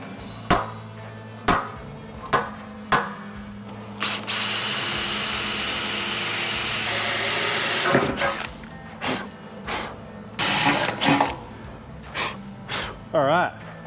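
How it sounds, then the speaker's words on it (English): A power drill whines steadily for a few seconds, boring a pilot hole in sheet metal for a 1934 Ford coupe gas tank, bracketed by sharp metallic knocks and clanks before and after, close by. "scribe center, drill a hole, pilot hole"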